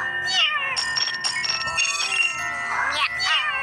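Cartoon cat meows in a children's animated song, several bright, rising and falling mewing calls close up over continuous music, with a sung or spoken voice weaving through.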